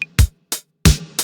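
A synthwave drum group played dry in Ableton Live with no saturation, EQ or glue compression: a punchy kick, a snare-like hit, then another kick and hit, in a tight, loud, spaced rhythm.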